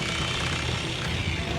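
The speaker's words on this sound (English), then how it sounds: "We got a little jackhammer called the Terminator." A small pointed-bit jackhammer chips ice aboard a crab fishing boat on the Bering Sea, a continuous loud rattling hammering that stays steady and close throughout with no voices.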